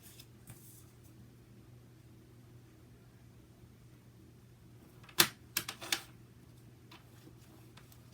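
Card being cut with a paper cutter: a quiet room, then a sharp blade snap followed by a couple of softer ticks and rustles, close but faint overall.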